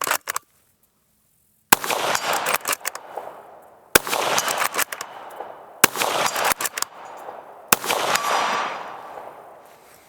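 Ruger American Ranch rifle firing at a 4-inch steel plate, four sharp loud shots spaced about two seconds apart, each trailing into a long rolling echo across open ground.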